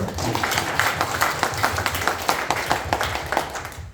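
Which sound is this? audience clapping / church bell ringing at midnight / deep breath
audience clapping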